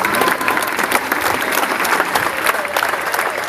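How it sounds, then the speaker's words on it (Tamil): Dense, steady applause from an audience at a polytechnic college awareness event in Karaikal, many hands clapping continuously and loudly for the whole stretch with no voices rising above it. "எல்லாரும் ஜோரா ஒரு கைத்தட்டல் கொடுங்க"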